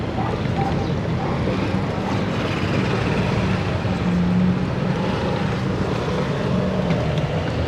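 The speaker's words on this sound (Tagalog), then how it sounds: "Regarding dito sa ginagamit ko motor, Panarea 125." A Panarea 125 motorcycle rides from Bulacan to Makati, its engine and road noise a steady broadband roar that stays loud and even throughout, with wind buffeting and no distinct speech.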